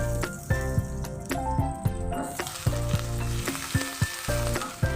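Whole cumin, dried chili and bay leaf crackle in hot oil in a kadai while making biulir (urad) dal, an intense close sizzle punctuated by frequent sharp stirring scrapes and pops, without speech.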